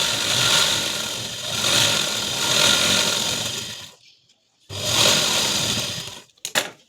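A sewing machine stitches a two-inch strip for a katori blouse in long steady whirring bursts, running for about four seconds, pausing briefly, then running again before stopping with a few quick clicks.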